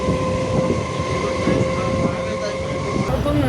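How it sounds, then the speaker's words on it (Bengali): A commuter train pulls into a station with a loud, continuous rumble, a steady tonal whine and wheel noise that shifts near the end, heard close by. "তো আমার কলেজে যাওয়ার ট্রেন এসে গেছে।"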